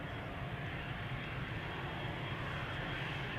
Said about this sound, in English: Ooh, there's a turn and burn in progress over here. Embraer 190.